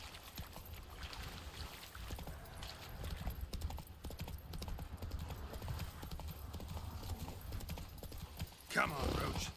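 Roach, Geralt's horse in The Witcher 3: Wild Hunt, trotting with steady clip-clop hoofbeats, mixed with in-game ambience and a voice speaking over it.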